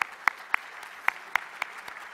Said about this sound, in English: let's take a moment and give a round of applause to all the people who put our program together.